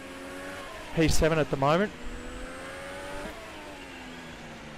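Onboard engine of a Ferrari Formula 1 car lapping the French Grand Prix circuit in a racing video game, a steady mid-pitched drone with a gear change under a commentator's voice.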